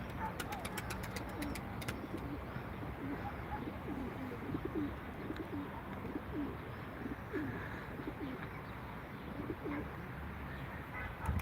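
Several Ankara tumbler pigeons coo softly and repeatedly at a pigeon auction over a dense, steady background, with a few faint clicks near the start.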